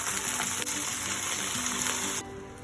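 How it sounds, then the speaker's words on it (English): Tofu frying over low heat in oil in a frying pan gives a steady, close sizzling hiss that drops away sharply near the end. "Put the tofu on the frying pan and fry over low heat."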